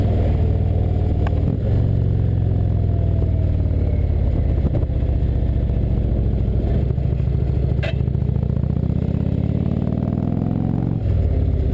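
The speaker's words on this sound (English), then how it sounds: "Running it down through the gears on deceleration also sounds absolutely fabulous." An Indian Chieftain motorcycle engine heard from on board as the rider runs down through the gears while slowing, giving a steady loud rumble with pitch drops at each shift under constant wind noise.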